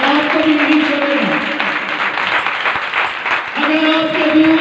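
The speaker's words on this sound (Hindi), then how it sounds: "आइए कम जोरदार तालियां बजाएं।" Church congregation clapping together, a steady dense wash of applause running the whole time, with a voice and sustained tones sounding over it.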